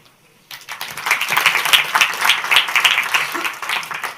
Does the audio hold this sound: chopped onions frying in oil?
no